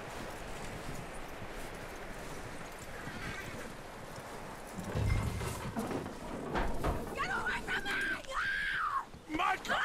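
A horse in the Red Dead Redemption 2 video game clops along amid rustling outdoor ambience, hooves growing louder midway, with a voice speaking over the last few seconds.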